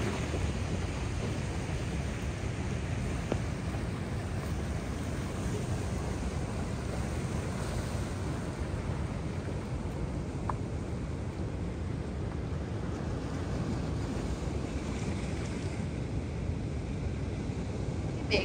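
Ocean surf at a rocky volcanic-stone beach on Hawaii, a steady loud roar of large breaking waves that rumbles on without pause for the whole stretch, with no voices over it.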